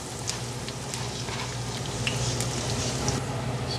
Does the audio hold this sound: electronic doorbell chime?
no